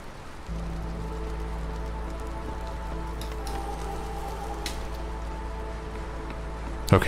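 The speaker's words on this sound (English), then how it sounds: "It's gonna start hailing in just a minute." Steady hailstorm rain in the video game Against the Storm, a constant wash of drops hissing evenly over a low rumble, running unbroken and alone until a brief thump at the very end.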